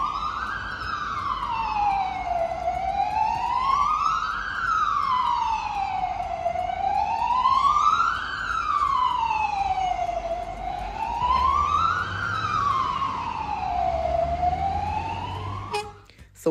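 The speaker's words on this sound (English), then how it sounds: "it's an ambulance" An ambulance siren on a Brussels street, wailing up and down in a steady repeating cycle about every four seconds, loud and close, with traffic rumble beneath and an abrupt cutoff at the end.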